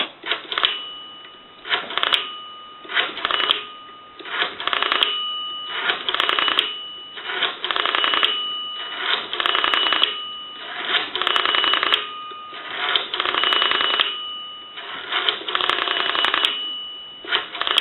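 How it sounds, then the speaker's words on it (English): A Northern Electric N233H three-slot payphone being dialed out: a dozen or so rapid bursts of clicking, buzzing pulses in a steady rhythm, close and loud, with short gaps between digits and no voices. "Now we want to walk through our numbers, so we're going to go ahead and dial our numbers out."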